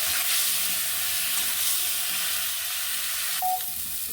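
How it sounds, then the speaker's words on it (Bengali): Cauliflower florets frying in hot oil in a pan, giving a steady, close sizzling hiss throughout with a brief clatter near the end. "এবার কপিটা দিয়ে দিলাম, ভালো করে ভেজে নেব সুন্দর করে"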